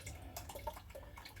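Bourbon wash mash being squeezed by hand lets liquid drip and trickle into a bucket, several small irregular plinks and splashes over a faint, quiet background.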